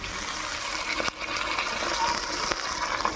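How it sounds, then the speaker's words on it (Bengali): Water poured into a pan of Bengali pointed gourd curry with fried potol and cooked-down spices, a steady gushing pour running throughout, close and fairly loud, with two brief knocks along the way. "জল দিয়ে দেবো"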